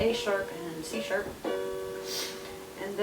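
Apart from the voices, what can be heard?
No everyday noises stand out.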